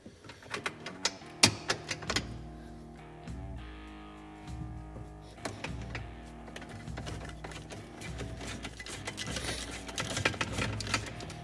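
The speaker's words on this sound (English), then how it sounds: "Get our socket. We'll go ahead and completely remove the hardware." A ratcheting socket wrench turning bolts out of the hardware on a Can-Am Maverick Sport during a power-steering install, with rapid close clicking bursts and pauses between them.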